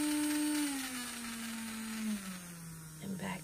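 A Makartt e-file nail drill runs at full speed, giving a steady high motor whine whose pitch slides slightly downward, close and continuous, with a faint bump near the end.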